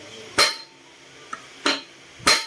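Three loud, sharp metallic hammer blows on a part of a Honda Click 125 scooter, spaced about a second apart, with a faint light tap between them and no talk.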